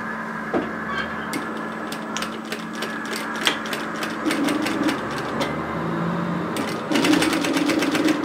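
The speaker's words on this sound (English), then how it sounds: "So we're going to sew this together, but we're going to leave the area between the notches free." Sewing machine stitching a raglan sleeve seam with a 1 cm seam allowance, running in steady rapid bursts with short stops and a quick backstitch tap, close and clear with no voices.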